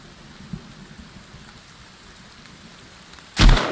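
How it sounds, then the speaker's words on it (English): Steady rain patters faintly in the Sons of the Forest video game, then a sudden loud thunder crack bursts near the end. "Is that lightning that just struck in the background?"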